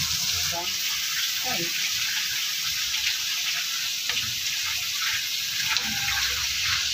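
Vegetables for pancit canton hitting a hot pan on a gas stove give a steady broadband sizzle that runs throughout, with occasional clinks and a brief voice exclaiming.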